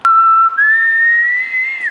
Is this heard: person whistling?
yes